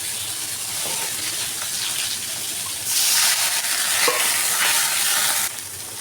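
Chopped onions frying in mustard oil in a wok send up a steady, close sizzle that swells louder midway and then eases back. No voices are present.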